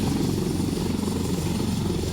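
Helicopter flying over a flood-hit village, its rotor and engine making a steady, dense low drone that holds evenly throughout with no voices.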